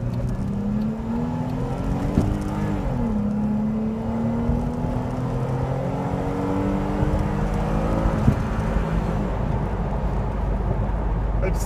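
The 3.6-liter engine of a 2013 Jeep Wrangler Unlimited drones loudly from inside the cabin while driving, its pitch rising as it revs, dipping at a shift and then climbing steadily again.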